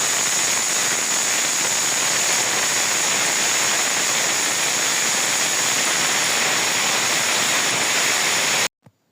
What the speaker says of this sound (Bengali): বৃষ্টি যেহেতু থামছেই না